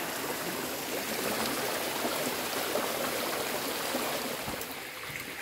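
A river flowing past a riverbank at night, a steady broadband rush of running water that holds even and loud throughout, with no voices.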